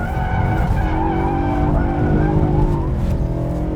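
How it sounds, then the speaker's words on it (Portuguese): V8 car drifts with sustained, wavering tire squeal over a loud engine roar, continuous and close, with no voices. "É o carro mais fácil que eu já driftei na minha vida"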